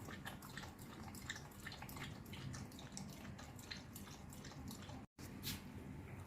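Cold water poured over a dog during a bath, a steady rush of splashing that runs continuously and close, with one brief break near the end.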